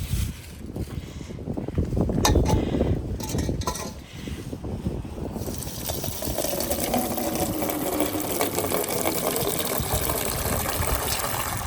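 Spider plant leaves are rinsed in water in a home kitchen, with steady close splashing and sloshing as the leaves are swished and handled. No one speaks.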